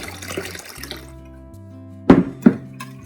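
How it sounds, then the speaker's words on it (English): Water splashing and gurgling into a cooking pot of BBQ sauce, with a couple of louder splashes near the end over a low steady hum. "And now we add in water."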